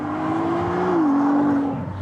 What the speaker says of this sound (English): Ferrari have spent a really long time making sure that this engine sounds like a proper Ferrari.